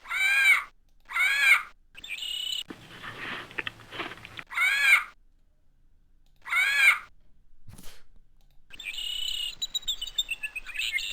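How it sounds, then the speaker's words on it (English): Scarlet macaws squawking in the Puppet Motel computer game, harsh repeated calls in short separate bursts with brief pauses and a longer chattering call near the end. "Do we get to hear the scarlet macaws?"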